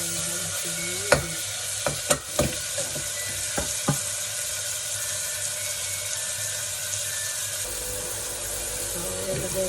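Tomatoes and onions fry in a pan for beef salona with a steady close sizzle, broken by several sharp clinks and scrapes of a spoon against the pan early on; no speech.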